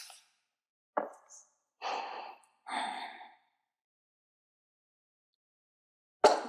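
Slow, deliberate breaths during a yin yoga forward fold, heard as a few separate soft sighing inhales and exhales spaced by silence, close and quiet with no talking.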